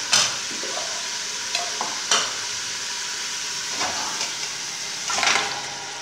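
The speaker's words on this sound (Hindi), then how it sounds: "पाए भी मैं अच्छी तरह भून लूँगी।" Mutton trotters fry in masala in a pan, a low sizzle under repeated scraping stirs and clinks of the spoon, with no talking.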